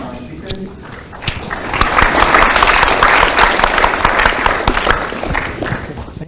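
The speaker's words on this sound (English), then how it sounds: "Let's have a round of applause for our speakers." Audience at a US–Vietnam business summit panel applauding the speakers; scattered claps build into loud, full applause that holds and then begins to ease.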